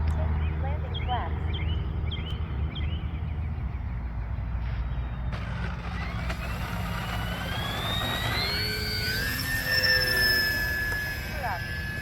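An E-flite P-51 Mustang 1.2m RC plane flies over a runway, its electric motor a steady whine that rises and sweeps upward in pitch as it passes, over constant outdoor wind and background rumble, with someone talking throughout.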